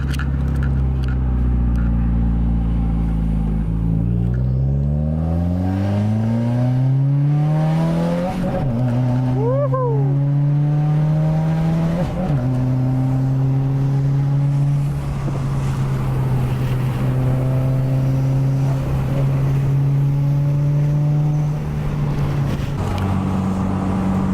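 A Honda car accelerating on a city street: a loud, close engine revs up with rising pitch, then holds a steady droning note, with no talk over it.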